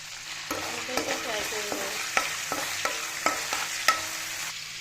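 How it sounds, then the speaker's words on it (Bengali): Whole cloves, bay leaf, cinnamon and cardamom fry in hot oil with a close, steady sizzle, punctuated by a series of sharp spoon clinks and scrapes against the pan. "এখানে লবঙ্গ, তেজপাতা, দারুচিনি, এলাচ দিয়ে দিচ্ছি।"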